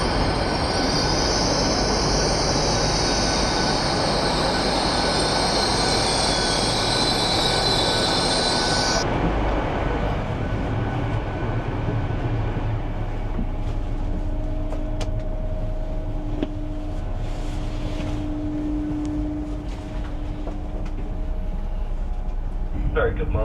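A train rumbles at a platform with a steady low roar and a high hiss that stops partway, followed by faint squeals and distant voices.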